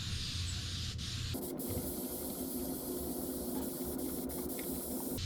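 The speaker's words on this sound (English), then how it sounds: "I'll just take a spray bottle filled with just water, and then go ahead and just get a nice spray on it." A spray bottle of water hisses continuously, misting leather before tooling, with a sharp shift in tone after about a second and a few brief clicks mixed in.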